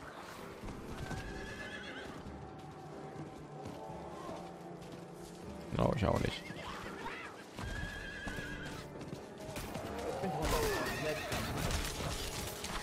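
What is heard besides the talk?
horse neighing and galloping in video game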